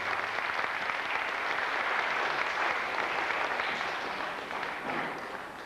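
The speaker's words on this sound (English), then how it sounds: "So I think you deserve a big round of applause." An audience at a memorial concert bursts into sustained, dense applause, many hands clapping together at close range and fading slightly toward the end.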